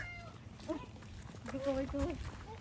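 A cat meows a few times, short tonal cries in the middle of the clip over steady outdoor background noise.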